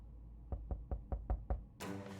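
Six evenly spaced knocks on a door in the video game 60 Seconds Re-Atomized, a steady thudding rhythm, close and loud, followed by a brief burst of game sound.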